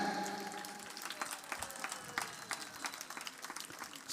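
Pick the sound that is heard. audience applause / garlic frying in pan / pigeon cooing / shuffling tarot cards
audience applause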